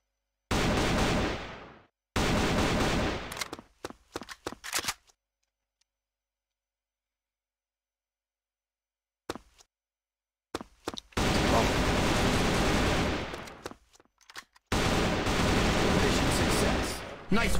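Gunfire from the shooter video game Assault Fire, loud bursts of rapid shots in several clusters separated by a long silent gap, with voices talking over the action.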